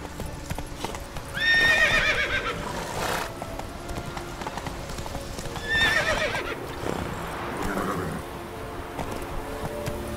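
Hooves clip-clop steadily beneath two loud whinnies from the horse Roach in The Witcher 3 video game, with the neighs coming around two and six seconds over a continuous outdoor game ambience.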